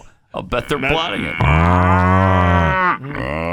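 Cattle moo loudly and close by, one long drawn-out low bellow held for about a second and a half, with a person speaking briefly just before it.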